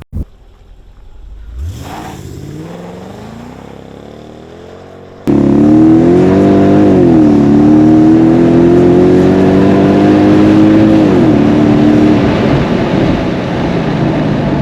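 A Mercedes AMG launches hard from a standstill on gravelly pavement, engine rising in a loud, close roar through several gear shifts with tire noise, continuing at full throttle for most of the run.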